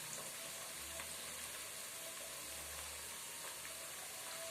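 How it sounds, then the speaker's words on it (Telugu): Tamarind extract poured into a hot pan, a steady quiet sizzle and hiss of frying liquid that carries on evenly and faintly throughout. "పులుసు పోసుకుంటున్నా, చింతపులుసు."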